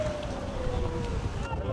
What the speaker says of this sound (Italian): contemporaneamente anche l'avvicinamento dell'imbarcazione con tutti gli operatori a bordo